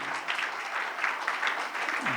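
An audience applauds at a Women's Day celebration held by LCES Kalanilayam and Bhashyam schools, a steady, moderately faint patter of many hands running for about two seconds without talk.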